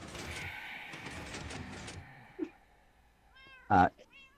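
Cats meow in the video game Minecraft ZombieCraft: a short meow comes after some background talk, followed by a louder, clearer meow near the end, both fairly close and set against quiet game ambience.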